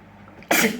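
A single sharp, loud sneeze bursts out after a quiet lead-in during a chicken powder sneezing challenge.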